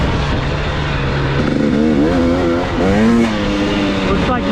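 A 2021 KTM 250 XC dirt bike ridden along a wooded trail at Crow Canyon, its engine droning loud and close with rising and falling revs, while a rider talks over the engine noise.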